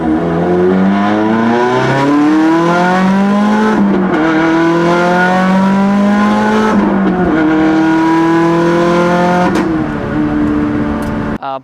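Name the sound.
Subaru WRX 400whp car aftermarket exhaust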